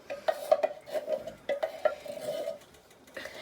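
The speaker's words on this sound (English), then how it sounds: "And give it a stir" A spoon clinks and scrapes against a pot while crushed tomatoes are stirred into chicken orzo, giving a series of light metallic taps and swishes close by, with no talking.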